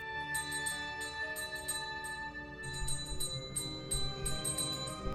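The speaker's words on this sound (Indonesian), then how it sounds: "Suara lonceng mengganggu kedamaian malamnya" Small bells ring repeatedly at night in the film Little Bites, in bright, shimmering clusters, their tones overlapping and lingering at moderate volume with no talking.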